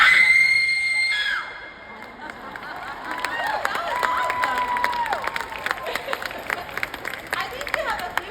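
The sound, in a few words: horror movie scream performed on a dare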